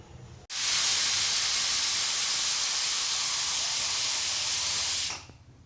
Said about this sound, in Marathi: आणि आता झाकण झाकून कुकरच्या फक्त एकच शिट्ट्या काढून घेणार आहे.